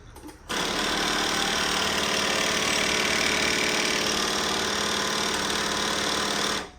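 A C5 Corvette drift car engine, freshly installed, starts and runs steadily at a loud, close, even idle for several seconds before cutting off abruptly, with no talk over it.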